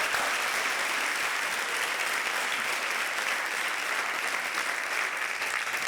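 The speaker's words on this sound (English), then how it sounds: "How about a round of applause for our new students?" A large audience at a university convocation applauds for new students in a steady, dense wash of clapping that holds for several seconds without a break.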